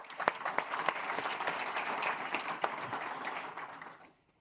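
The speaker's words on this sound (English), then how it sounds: "Round of applause, perhaps." A full conference room audience at a maritime industry launch event applauds: many hands clap together in a fairly soft, dense burst that swells briefly, holds, then fades away to quiet near the end.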